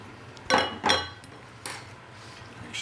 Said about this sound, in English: Mix this up a bit.